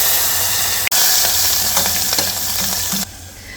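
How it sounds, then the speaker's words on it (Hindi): Cumin, asafoetida and chopped garlic fry in hot ghee inside a pressure cooker, giving a steady loud sizzle with a sharp click partway through before the crackle dies down. "यहाँ पे कुकर में मैंने डाला है घी और अब इसके अंदर डाल दूँगी मैं जीरा और अब डालेंगे इसमें हींग, ये लहसुन के कटे हुए छोटे टुकड़े"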